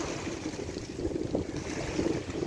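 Choppy sea waves wash around a boat at sea mid-morning, a steady low rumble of water and wind with irregular swells and splashes rising and falling throughout, no voices.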